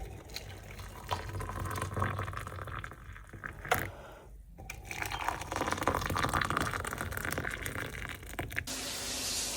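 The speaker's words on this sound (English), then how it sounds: "How was your shower, Mr. Boo?" A hotel shower runs with a steady hissing spray of water, rising and falling in intensity as the stream shifts, continuous for several seconds close by.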